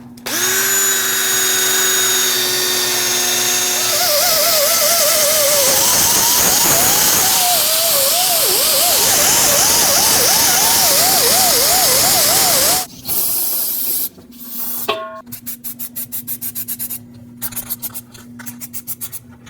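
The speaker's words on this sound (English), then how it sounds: "I'm going to take a wire wheel on my drill and clean up the inside" A wire wheel spun by a power drill scrubs the inside of a 2005-2021 Nissan Frontier 2WD front wheel hub, a loud steady whine and scratching rasp that stops, then returns in short stuttering bursts.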